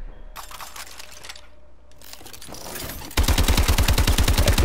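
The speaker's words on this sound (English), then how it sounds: "show you the hip fire" Hip fire from a weapon in Call of Duty: Advanced Warfare, a sudden loud rapid-fire burst of evenly spaced shots that starts after a quieter stretch of scattered game sounds and clicks.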